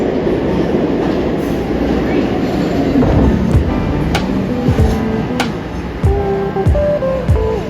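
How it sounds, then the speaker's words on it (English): Loud subway train rumbling and clattering as it pulls into a Philadelphia station, with rising squeals and screeching wheels toward the end. "For the train to come. I wish it would hurry up."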